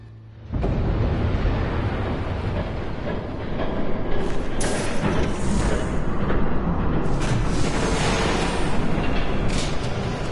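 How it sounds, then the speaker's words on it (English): A train rumbles past in a Batman video game, a loud continuous roar with rattling wagons that swells and stays heavy for about ten seconds, with no talking over it. "There's a train coming."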